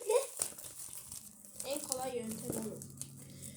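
A plastic package being peeled and torn open, with crinkling and ripping close by under excited talk from a couple of people.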